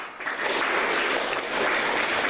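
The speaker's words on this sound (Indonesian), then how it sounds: "kita beri aplaus untuk mereka" A crowd at a Papuan student gathering in Manado applauds, a dense, steady burst of clapping heard close and alone.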